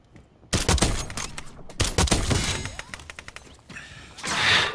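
Rapid gunfire in Call of Duty Warzone on Rebirth Island: loud, close bursts of automatic shots with sharp repeated cracks, brief pauses between volleys, and a swelling rumble at the end.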